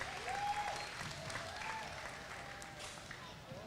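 Applause from a crowd at a county fair livestock show arena, moderate and steady, with faint whistle-like tones and some voices mixed in.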